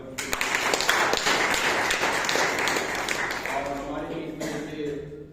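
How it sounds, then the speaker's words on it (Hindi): Clapping from an audience at a mission gathering, welcoming an attendee from Sitapur district; a steady crowd of hands that fades slightly toward the end, with some voices mixed in underneath. "जोरदार ताली सराफत।"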